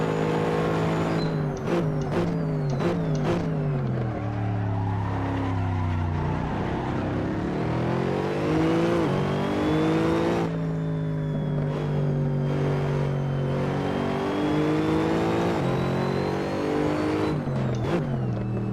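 Mercedes SLS AMG GT3 race car at the Nürburgring in Assetto Corsa, its engine loud and close throughout, revving up through the gears with sharp shift breaks, then easing off and pulling hard again.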